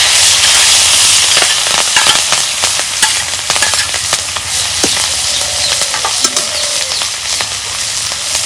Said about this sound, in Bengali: তেল গরম হচ্ছে এখন আমি পেঁয়াজ কুচি দিয়ে দিব পেঁয়াজ কুচি মরিচ কেটে রাখছিলাম দিয়ে দিলাম